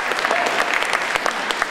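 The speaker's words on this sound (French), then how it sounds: "On applaudit très fort Eiffel" A slam poetry audience claps for a poet after scores are announced, a short burst of dense, lively applause with a few sharper individual claps standing out.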